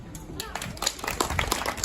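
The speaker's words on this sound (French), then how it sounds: "on peut la remercier et l'applaudir, je pense" Audience applause at an association inauguration in Sevran, scattered clapping that builds and grows denser, with voices mixed in beneath it.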